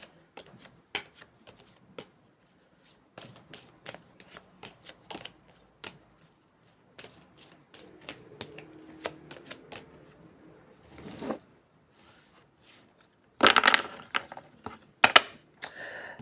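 Playing cards handled and shuffled, with sparse dry clicks and flicks throughout and a brief louder riffling burst toward the end.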